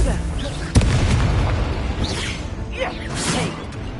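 A Confringo blasting spell goes off in Hogwarts Legacy with a sharp boom and a whooshing burst, followed by rumbling action noise and further swishes, with game voices shouting over it.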